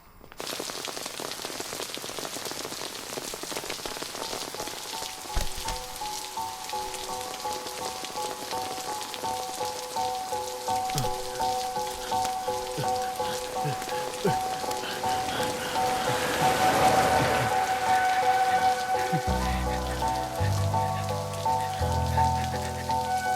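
Heavy rain drums steadily on surfaces outdoors, a loud dense patter that continues unbroken for over twenty seconds, with faint background tones and occasional low thuds beneath.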